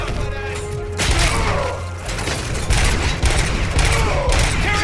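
Gunfire in the RoboCop: Rogue City video game, with dense rapid bursts of automatic shots and loud impacts over a rumbling game score, heavy and continuous across the clip.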